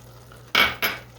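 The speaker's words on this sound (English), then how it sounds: "I'm just going to stir it up a little and let it continue to cook" A utensil scrapes twice against a pan of ground beef, onion and garlic cooking, two short, sharp metallic strokes close up over a faint background hum.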